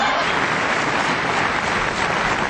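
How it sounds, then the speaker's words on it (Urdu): A television studio audience breaks into steady, dense applause, an even wash of many hands clapping together at full volume for a couple of seconds. "بند کرو تالیاں"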